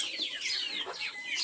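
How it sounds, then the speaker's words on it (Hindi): Chicken clucking on a hen farm, a few short close clucks repeating for a moment with no talk over them. "ये मुर्गा है"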